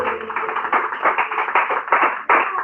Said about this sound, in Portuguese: Pode bater uma salva de palmas para Jerônimo.